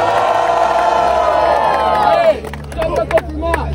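A battle rap crowd cheers and shouts at a Brazilian freestyle competition, a dense roar of voices for the first two seconds that then thins into scattered whoops and shouts.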